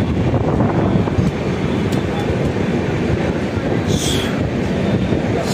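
A Mumbai local train passes near Bhayandar railway station, a dense continuous rumble and clatter of rail cars with wind buffeting, heard from on board or very close, with a brief squeal partway through.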